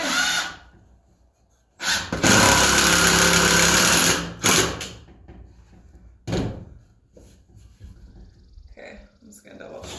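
A power drill drives a Torx screw into a wooden step stool in one loud, close burst of whirring lasting a couple of seconds, followed by brief tool bumps.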